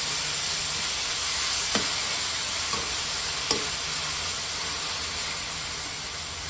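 Fenugreek leaves fry in a pan for menthya goli with a steady, even sizzle throughout, broken by a few soft taps of a spatula against the pan.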